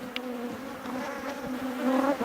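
Honey bees buzz around a hive frame heavy with honey in the brood nest: a dense, steady drone close by, with a few brief sharper buzzes from individual bees passing near.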